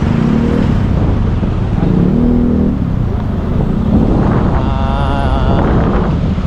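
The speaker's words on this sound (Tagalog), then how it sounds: "Walang pagbabago ang traffic dito papuntang monumento. Madami na sasakyan." Dense road traffic with many vehicles on the way to Monumento, a steady loud rumble of engines and tires with wind buffeting the microphone and a passing engine whine rising near the end.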